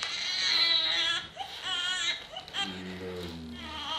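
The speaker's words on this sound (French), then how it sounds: "On entend le bébé qui pleure." A baby crying loudly and close in a run of wailing, whimpering bursts that carries through the whole stretch, heard alone without talking.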